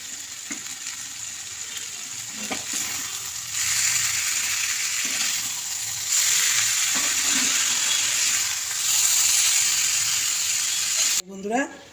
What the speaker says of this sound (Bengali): বাঁধাকপিটা দিয়ে আবার কষাবো